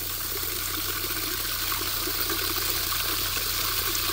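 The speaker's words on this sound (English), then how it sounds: "So, we're filling it up." Water pours steadily into the basin of a small solar fountain, a continuous close rushing and splashing that stays even throughout with no voices.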